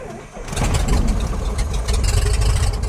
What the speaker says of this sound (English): All right, so engine start, toe brake set.